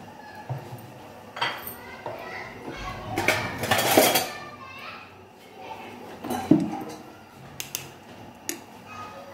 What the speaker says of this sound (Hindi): चूल्हे पे हमने कढ़ाई रखी, कढ़ाई में हम 1 कप ऑयल डालेंगे